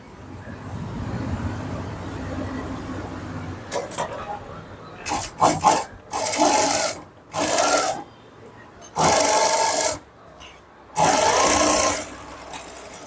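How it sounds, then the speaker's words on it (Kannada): Sewing machine stitching a blouse lining onto the main fabric, running in several separate bursts of steady whirring with short pauses between, close and fairly loud. "ಲೈನಿಂಗ್ ನ ಮೇನ್ ಫ್ಯಾಬ್ರಿಕ್ ಮೇಲೆ ಇಟ್ಟು ಸ್ಟಿಚ್ ಮಾಡ್ತಾ ಇದ್ದೀನಿ."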